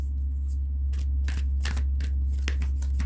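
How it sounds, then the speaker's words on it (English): A tarot card deck being shuffled by hand gives several quick papery riffling bursts, close and fairly soft, over a steady low background hum. "Do a couple more good shuffles"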